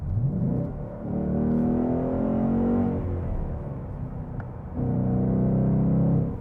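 A Ford Mustang GT's engine drones steadily while driving, a loud, close low rumble with a brief rise as it revs, dipping mid-pass and then swelling again as throttle builds.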